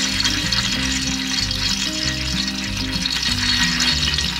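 Oil sizzling and frying steadily in a hot pan at the start of a tomato rice dish, a loud continuous crackle with no talk.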